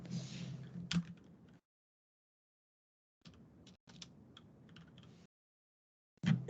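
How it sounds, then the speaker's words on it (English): Keystrokes as items are typed into a list in a team-built app demo, heard as short bursts of close, light tapping separated by gaps of silence, with a couple of sharper clacks. "as he's typing these in, each one pops up with a little delete button next to it"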